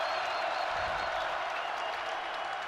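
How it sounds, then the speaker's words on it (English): A stadium crowd at the Fargo Dome roars during a North Dakota State versus James Madison FCS semifinal football game, a dense sustained wall of cheering and applause heard close and loud without a break. "Crowd roaring here at the Fargo Dome."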